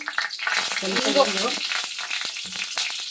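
Mustard seeds sizzling in a spoon of oil and half a spoon of ghee for a bean sambar tempering, a short close crackle and hiss with faint popping and a brief murmur.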